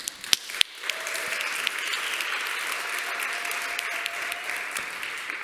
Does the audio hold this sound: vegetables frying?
no